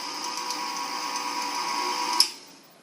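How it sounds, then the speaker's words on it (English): An electric mixer cuts butter into the dry ingredients for a devil's food cake with a steady mechanical whir, then clicks off and the sound quickly dies away. "I'll blend this in until I get a fine crumb."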